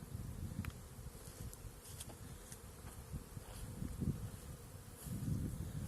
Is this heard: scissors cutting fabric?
no